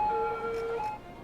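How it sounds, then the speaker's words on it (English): Emergency vehicle sirens wail in the city-building game Cities: Skylines, a steady tonal siren that holds and then shifts pitch, fairly loud against a soft background hum. "I really wish you could turn down the sirens a little bit."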